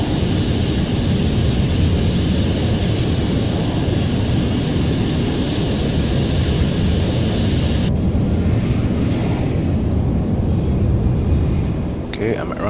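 Simulated Captain Sim 767 jet engines whine steadily at taxi power in Flight Simulator X, a constant loud roar with a high tone that shifts and falls near the end, heard alone without talk.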